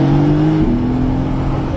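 A Mercedes-AMG GT S accelerates, its loud, close engine note steady with a pitch that shifts downward partway through, heard from inside the car with no talk.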